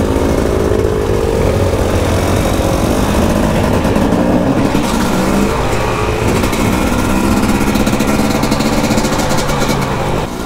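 A brand-new retro Husqvarna 300 two-stroke dirt bike engine on a casual trail ride, loud and close throughout, with a continuous raspy drone that rises and falls as the throttle changes and no talk.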